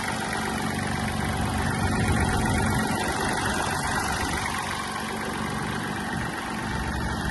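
A Kubota GL-320 Japanese mini tractor engine idles steadily and close by, a continuous rough chugging rumble with no talking over it.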